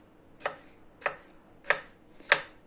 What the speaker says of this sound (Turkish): Şöyle güzelce doğrayalım. Domatesimizi de doğrayalım.